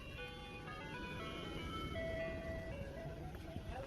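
An ice cream truck chimes the Camptown Races tune in thin, steady electronic notes over a low idling engine rumble, heard from close by at moderate volume.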